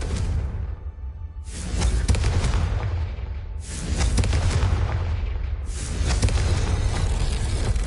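Confringo blasting spells in the video game Hogwarts Legacy explode three times in succession, each a loud, close whooshing burst decaying into a rumbling boom that overlaps the next, with no talking.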